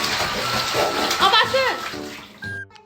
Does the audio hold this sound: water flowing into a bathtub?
yes